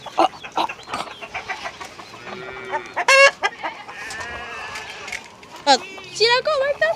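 Chickens cluck and squawk repeatedly at close range on a farm with ducks and goats nearby, irregular bursts of calls mixed with people talking, including a child.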